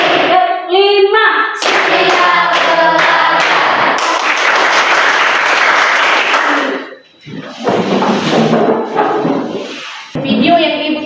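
A standing group claps together in counted rounds during a classroom ice-breaker, bursts of sharp hand claps arriving in quick rhythmic clusters, close and loud, with a break partway through before the clapping resumes.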